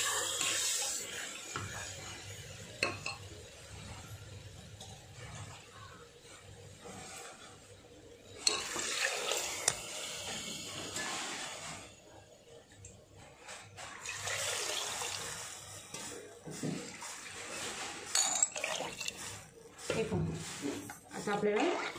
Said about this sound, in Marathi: तांदूळ परतल्यानंतर आपल्याला मग पाणी टाकायचं आहे.